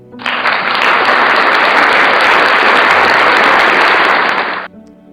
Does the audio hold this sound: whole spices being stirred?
no